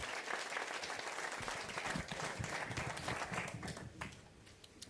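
A church congregation applauds during a sermon, loud and sustained with many hands clapping together, tapering slightly toward the end.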